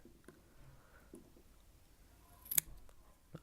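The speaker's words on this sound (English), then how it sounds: "now let's trim off the fluffy bits." Scissors trim fluffy wick cotton for an Augvape Boreas V2 RTA vape tank, giving one crisp, close snip amid quiet handling rustles.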